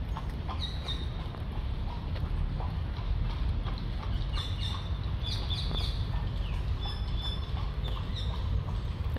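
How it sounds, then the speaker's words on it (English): Several birds chirp and call in short bursts over a steady low rumble of background noise, scattered throughout. "That's some good bird noises."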